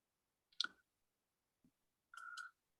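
A computer keyboard at a conference inauguration gives a few sparse, quiet clicks: a sharp tap, a faint one, then a short cluster of keystrokes in an otherwise silent room.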